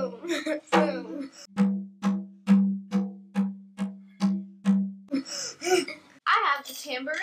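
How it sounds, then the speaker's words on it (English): A drum is struck about ten times in a steady, even beat, each low boom decaying quickly, with a voice speaking briefly before and after. "I have the drum, and it sounds like this."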